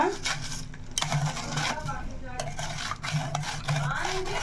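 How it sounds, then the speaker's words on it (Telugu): Jaggery being stirred into a junnu mixture in a vessel, with repeated close scraping and rubbing strokes of a spoon while someone talks over them. "శుభ్రంగా మనకు మొత్తం కలిసేలాగా ఇలా కలుపుకోవాలి."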